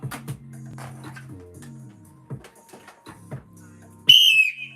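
A short, loud, shrill whistle blast cuts in sharply at the end after a stretch of quiet voices and low hum.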